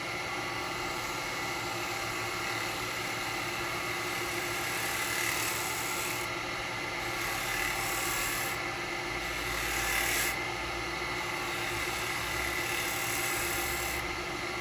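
A woodturning gouge riding its bevel through wet eucalyptus on a lathe while turning a cowboy hat, giving a loud, steady rasping hiss over the machine's constant hum, with no speech.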